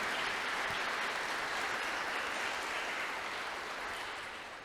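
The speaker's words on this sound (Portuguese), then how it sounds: "gostaria que você desse uma salva de palmas para os seus pastores" A church congregation applauds its pastors: dense, steady clapping fills the room for several seconds at an even level and fades slightly at the end, with no voices on top.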